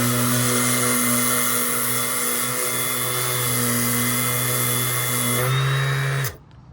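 A DeWALT brushless sander with 220 grit paper runs on a workbench surface with a loud, steady high whine that winds down and cuts off near the end.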